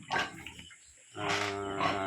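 Pigs on a backyard farm grunt and snort close by, a low rough grunt, a brief lull, then a longer, louder grunting call.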